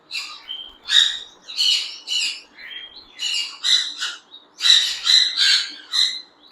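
Gouldian finches, a breeder pair with purple chests, give repeated short squeaky calls and chirps in quick clustered bursts, close and clear against a quiet background.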